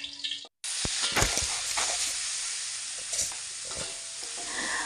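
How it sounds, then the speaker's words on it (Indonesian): Sliced shallots fry in hot oil with a steady, dense sizzle, broken by scattered stirring clinks and pops, with no talk. "Bawang merahnya yang udah diiris-iris tadi kita goreng dulu."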